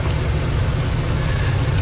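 A steady, loud V12 engine drone fills the cabin of a Ferrari Enzo or McLaren F1, a deep constant rumble with broadband road-like noise and no speech.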